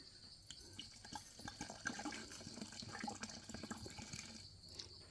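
A whole bottle of boiled vinegar is emptied into a homemade fermented insect-repellent mix, making a faint, continuous liquid gurgle and splash.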